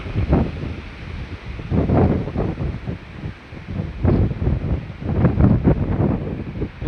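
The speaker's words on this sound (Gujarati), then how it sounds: "આવો કેવો પવન આવે છે" Strong wind buffets the microphone in heavy gusts, roaring and surging in waves with no voices.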